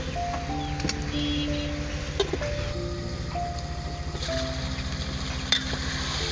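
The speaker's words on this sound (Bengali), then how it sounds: "এখন আমি কেটে রাখা আলুগুলো দিয়ে দিচ্ছি আলুগুলো দিয়ে আর একটু কষিয়ে" Cut potatoes are sautéed with spices in a pan, a continuous sizzle with occasional stirring knocks, while a steady tonal background hum runs underneath and nobody talks.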